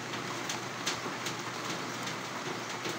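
Rain falls steadily during a typhoon signal no. 1 storm, a constant soft hiss with brief, faint tapping sounds scattered through it and no speech.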